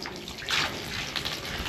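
Water drains from a water tank through a new drain valve, a steady rushing splash with bubbling bursts, close and continuous with no talk.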